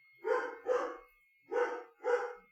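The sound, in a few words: dog barking in the background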